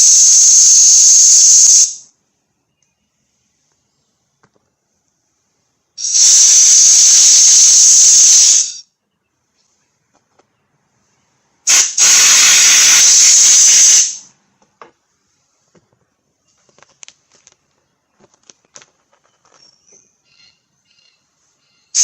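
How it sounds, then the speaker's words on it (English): Compressed air gun blowing out a part from a Husqvarna HU700L lawnmower that had sat for years: three loud, hissing bursts of about two to three seconds each, separated by quiet gaps, then faint small clicks. "I'm going to blow it with the air gun."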